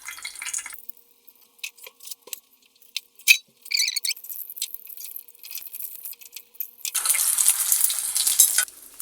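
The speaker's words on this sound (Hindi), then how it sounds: "सबसे पहले आपने इसको अपने अंडे में डिप कर लेना है इस तरह से।" Egg-dipped bread for a Korean street sandwich frying in a pan, with scattered clicks and stirring noises before a steady, bright sizzle rises near the end.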